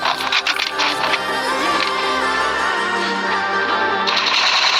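Bursts of rapid automatic gunfire ring out in a Free Fire one-on-one custom match, dense clattering volleys layered over a music bed, with a pause midway before the firing resumes.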